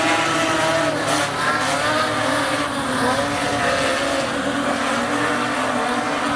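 Modified production race cars run a heat race on the Rockhampton Speedway dirt track, their engines roaring together in a dense, continuous wash of noise that swells and fades a little as the cars pass.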